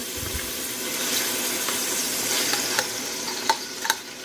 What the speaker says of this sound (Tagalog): Sama na rin natin igisa ang malagkit.